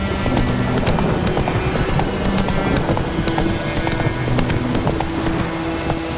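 Horse hooves clip-clop steadily at a trot for Roach, the Witcher 3 game horse, with continuous rhythmic footfalls over a busy ambient backdrop and game music, loud and close throughout.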